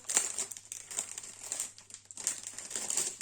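Plastic packaging sachets from a diamond painting kit are opened with close, quiet, continuous crinkling in soft bursts, handled carefully without talk.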